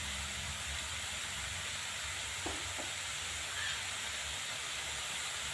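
Momos sizzle in a pan with a soft, steady hiss, faint and continuous, broken only by a couple of light clinks partway through.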